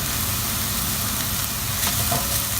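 Onion frying in a pan over lowered heat for an Indian potato curry, a steady close sizzle and crackle that continues evenly throughout with no voices.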